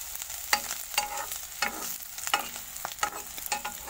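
Bitter gourd frying in a pan, a soft steady sizzle broken by regular clinks and scrapes of a spatula stirring, close and fairly quiet with no talking.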